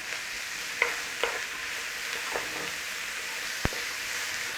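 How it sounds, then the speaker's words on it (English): Garlic and onions sauté quietly in a pot, a faint steady sizzle broken by a few soft stirring scrapes and one sharp utensil knock. "Nice little saute, a little stir fry."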